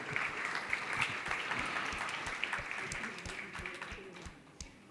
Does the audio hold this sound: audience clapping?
yes